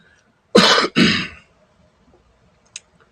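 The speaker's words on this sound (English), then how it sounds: "Got to clear my throat." Someone clears their throat with two short, harsh rasping bursts close to the microphone, followed by near silence and a faint click.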